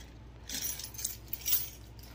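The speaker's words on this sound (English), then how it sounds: "Okay, let's get our keys." A set of keys jangles as it is picked up indoors, with several soft metallic clinks and rattles over about a second, close by and fairly quiet.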